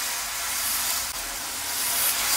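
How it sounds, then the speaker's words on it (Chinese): Hot salt pours steadily over a whole chicken set breast-down in a small pot for salt-baked chicken, a continuous close hissing rush with no break and no talk. "再把这个热盐迅速的放上去"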